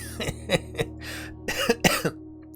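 Several short, harsh coughs in an irregular series, close and fairly loud, with a low steady hum underneath.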